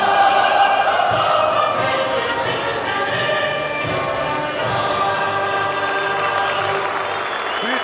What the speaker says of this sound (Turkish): tribünlerde büyük bir alkış var her iki takım oyuncularına